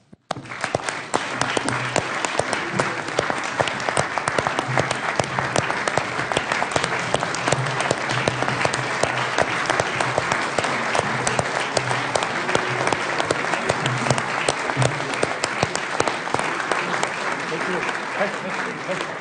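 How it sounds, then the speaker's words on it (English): Sustained standing ovation at the Council of Europe, dense steady applause from a large seated assembly filling the hall for the whole stretch, even and loud with no pauses. "I think we should stand and applaud these two women who um, honor democracy and this Congress"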